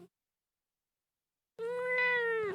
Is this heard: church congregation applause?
no